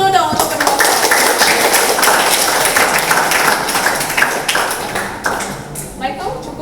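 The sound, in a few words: audience applause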